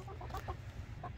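Backyard chickens clucking softly at morning feeding time, a few short, faint clucks close by in a quiet setting.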